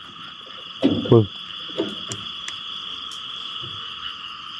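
Frogs croak at night in a Thai rice-field area during a frog-hunting outing, a few short croaks popping out over steady insect buzz and night ambience, with brief speech nearby.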